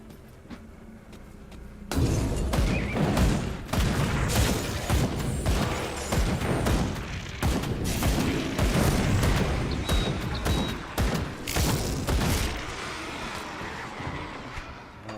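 Dense, continuous rapid gunfire and thudding booms from a combat encounter in the action role-playing game Grim Dawn, loud and sustained with no talking over it.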